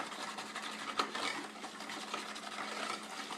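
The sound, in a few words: whisking pudding mix with milk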